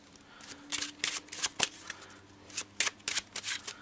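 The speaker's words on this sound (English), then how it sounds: "They can even shuffle these if they like" Playing cards riffled and shuffled by hand during a card trick, crisp papery bursts in several quick runs with short pauses between, close and fairly quiet with no talking.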